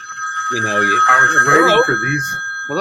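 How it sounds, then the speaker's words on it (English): A loud mobile phone rings with a steady high-pitched tone throughout, while people talk over it. "I'm sorry, that was my loud phone"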